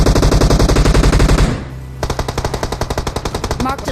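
Automatic gunfire from the PUBG battle royale video game, with loud, close, rapid bursts of shots, a brief pause, then another fast, evenly spaced stream of rounds.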